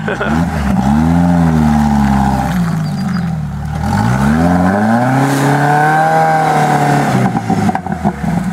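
Jeep engine revving hard in a mud rut at a Fourth of July Jeep run, rising and falling loud surges with clatter, voices talking over it.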